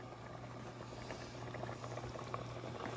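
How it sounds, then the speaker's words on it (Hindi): Water boiling in a pot on a high-flame gas burner, with a dense continuous bubbling and popping close by, steady and fairly loud throughout. "ये देखिए मैंने भी पानी डाला ही था और ये इसमें बबल्स बनना शुरू हो गया।"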